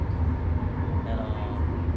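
An LRT-1 commuter train runs along its line in Manila, a steady low rumble and hum continuing throughout, with faint background chatter from passengers riding aboard.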